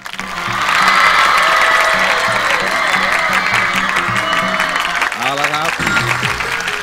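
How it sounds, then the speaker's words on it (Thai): Audience at a live televised Thai country-girl beauty pageant cheers and applauds loudly, a sustained roar of clapping and shouting that holds steady throughout, with a host's voice heard over it. "ขอเสียงเชียร์นะครับ"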